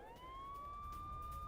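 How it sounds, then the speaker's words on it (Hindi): Air raid siren wailing in central Israel during an Iranian missile attack, a single steady rising tone that holds loud and continuous, with no voices. "मध्य इजराइल में सायरन की आवाजें आ रही हैं"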